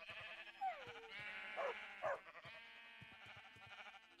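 Sheep in the video game Minecraft (FTB Revelation modpack) give a few short bleats close by, with a higher drawn-out cry at the start, over steady game background sound.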